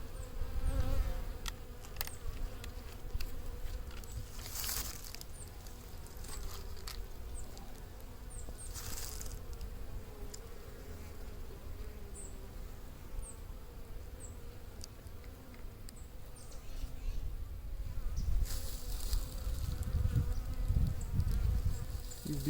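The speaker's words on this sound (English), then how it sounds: "These bees are acting a bit aggressive" Honey bees swarm around an open hive, a dense continuous buzz close to the ear with individual bees zipping past now and then, staying at a fairly even level.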